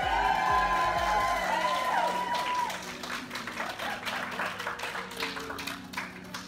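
Applause and cheering ring out from a crowd at an outdoor community gathering in Weehawken, New Jersey, dense clapping at first, easing into scattered claps and voices.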